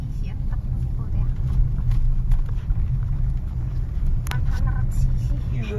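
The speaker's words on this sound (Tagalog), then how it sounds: "Ito 100cc ang takbo ko rin." A 100cc motorcycle engine drones steadily while being ridden on a road trip through Pangasinan, a constant low rumble with wind noise throughout and people talking over it.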